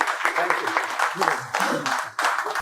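An audience claps at an institute's success celebration for AP DSC 2025, a moderate burst of applause with a voice talking over it.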